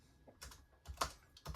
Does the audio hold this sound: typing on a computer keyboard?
yes